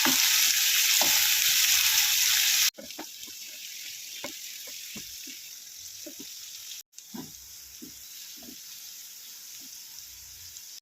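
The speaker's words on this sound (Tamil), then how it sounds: "வெங்காயம் சேர்த்துட்டேன் இப்போ இது நல்லா வதக்கிக்கலாம்" Onions with urad dal and cumin fry in a pan, opening with a loud rushing burst before settling into a softer sizzle dotted with scattered spatula clicks and taps, with a brief cut partway through.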